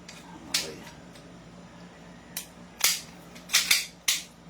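Staccato airsoft pistol being racked and fired: a handful of sharp, close mechanical snaps and clacks spaced irregularly, with faint background noise between them.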